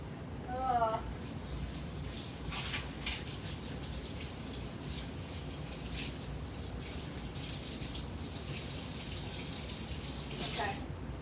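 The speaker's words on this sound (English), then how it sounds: "I'm gonna wash my hands again now" Water runs steadily from a kitchen tap while hands are washed, a close, continuous splashing hiss lasting throughout with small bursts of louder spatter near the start and end.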